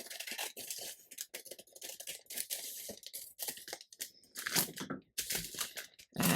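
Scissors trimming a folded air fryer liner: close, crisp snipping and crinkling in short irregular bursts with brief pauses.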